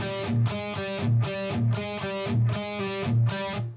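A distorted electric guitar plays a short repeating riff of chugging chords with a steady rhythm, moderately loud, with no voices.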